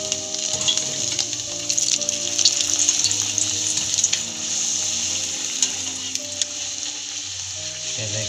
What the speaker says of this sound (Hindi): अब हम इसे तलेंगे। ये अच्छे से हमारा तेल गर्म हो चुका है, अब हम इसमें पूरी डालेंगे।